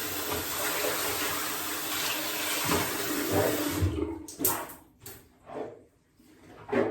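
Boar bristle shaving brush rinsed under running tap water. A steady rush of water gives way to a few splashy, squelching bursts as the brush is worked.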